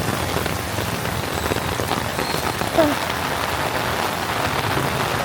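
Heavy rain pours down onto a city street in Da Nang, Vietnam, as a steady, loud, dense hiss of drops hitting pavement. The downpour stays constant throughout with no pause.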